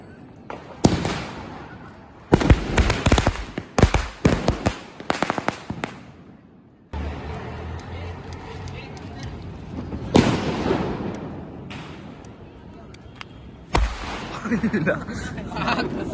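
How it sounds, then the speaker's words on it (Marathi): Rope bomb firecrackers go off in rapid crackling bursts during Diwali celebrations, loud and close, coming in several volleys separated by short gaps while people talk and laugh nearby. "रस्सी बॉम्ब दो भाई, रस्सी बॉम्ब, रस्सी बॉम्ब"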